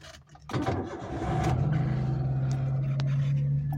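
A Maruti Suzuki Super Carry mini truck's engine starts after a brief rustle and then idles with a steady, moderately loud drone from close by.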